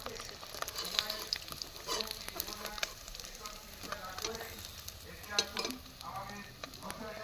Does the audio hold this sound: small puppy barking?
no